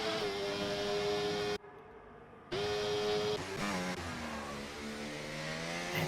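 A Ferrari Formula 1 car in F1 24 at the Saudi Arabian Grand Prix screams past at high revs, its whine dipping briefly as it brakes for a corner, then climbing again through the gears.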